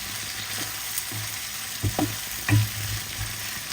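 Green chili frying in a stir-fry pan gives a steady close sizzle, broken by a few sharper bursts and clatters of stirring partway through.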